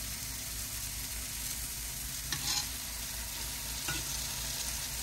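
Croissant French toast soaked in egg mixture sizzles steadily in a pan over medium heat, a constant close frying hiss with two brief louder spatters partway through.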